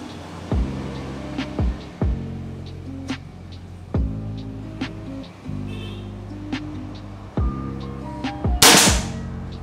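Sharp repeated reports from a PCP Predator Tactical Monol air rifle firing at a target during an accuracy test, about eight distinct cracks spaced roughly a second apart, each with a short decaying tail, close and loud.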